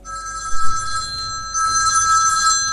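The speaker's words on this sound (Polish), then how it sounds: "co to za telefon? Ktoś do mnie dzwonił" A bell-like phone ringtone rings loudly and close, a steady tonal ring that pauses briefly and then resumes.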